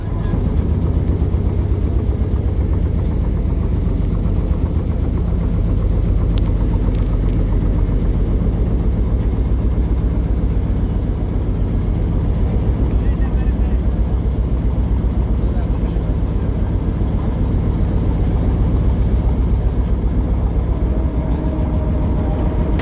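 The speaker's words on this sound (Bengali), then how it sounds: "তো আমাদের ট্রলারটি সেই লঞ্চের সাথে বার্থিং করতেছে" A steady, loud trawler engine drones throughout as the boat berths alongside a launch, low and continuous, with faint water noise beneath it.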